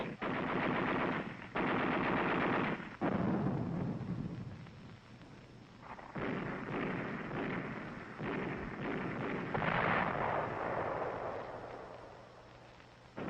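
Automatic weapons fire from 1945 combat on Okinawa rattles in long, loud sustained bursts broken by brief pauses, with booming distant blasts mixed in, all without any voices.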